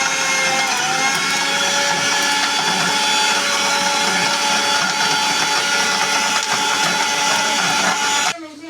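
Electric mixer grinder running on fried fish, coconut and onions for curry, a loud steady whirring motor drone that holds for several seconds, then cuts off abruptly near the end.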